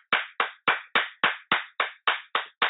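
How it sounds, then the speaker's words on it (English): One person claps hands about ten times in an even, brisk rhythm, each clap sharp and close, with clean silence between claps and no talk. "That's me clapping."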